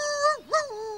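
A cartoon character voice imitates a hunting dog's howl, one short wavering call that dips and rises again, close and clear with no other sound.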